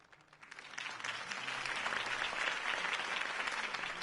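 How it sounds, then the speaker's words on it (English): A crowd bursts into applause at the end of a campaign speech, clapping building quickly and holding as a dense, steady roar for a few seconds. "could have heard that applause"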